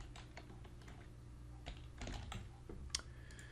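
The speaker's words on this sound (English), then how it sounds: "They would type in their full name." A name is typed on a computer keyboard, quick irregular clicks and taps close by but faint, in a quiet room with nobody talking.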